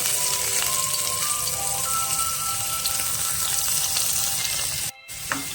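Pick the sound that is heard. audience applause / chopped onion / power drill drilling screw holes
chopped onion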